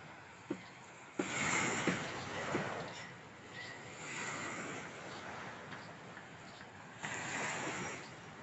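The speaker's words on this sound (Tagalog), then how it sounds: "Ayan, di ba? Yung alon." Waves lapping along the Manila Bay shore, a soft, irregular wash of water with a couple of sharp knocks early on, faint and somewhat distant throughout.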